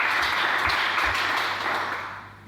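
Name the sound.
congregation applauding in church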